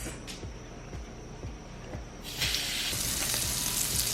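Steaks sear in a hot pan, a steady sizzle with soft rhythmic knocks beneath, then the frying surges louder and brighter midway as more meat hits the fat.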